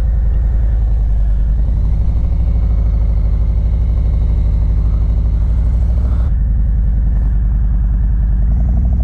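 Harley-Davidson Road King Special idling or cruising slowly through town at night, a loud, steady low rumble of the V-twin running continuously with a brief shift in tone partway through.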